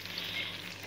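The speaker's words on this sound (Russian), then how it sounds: "жарим беляши" Belyashi, meat-filled pastries, frying in oil on low heat, a brief steady soft sizzle with no voices.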